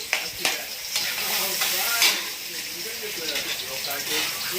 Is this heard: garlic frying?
yes